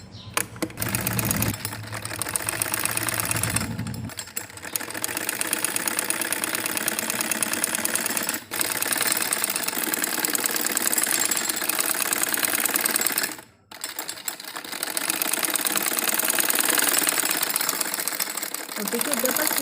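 A sewing machine runs in long steady bursts while stitching a round seam on a circular umbrella palazzo, pausing briefly twice before resuming; the motor hum and needle rattle stay loud and close, with no voices over it.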